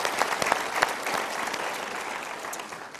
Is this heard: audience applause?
yes